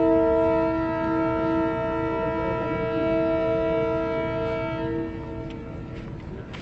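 A train on a railway journey from Quetta toward Calcutta sounds a long, steady horn with strong tonal harmonics over the rumble of running wheels, the horn fading near the end as rolling rail noise continues; no talk.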